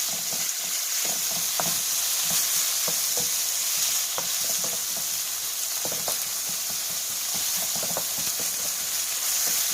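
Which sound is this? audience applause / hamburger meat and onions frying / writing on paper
hamburger meat and onions frying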